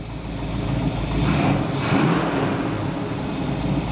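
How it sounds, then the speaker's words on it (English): A 1970 Dodge Challenger R/T convertible's engine revved briefly in neutral, rising from a steady idle to a couple of quick blips around the middle before settling back to a loud, close, continuous idle; no talking. "put it in neutral. Give her a little rev."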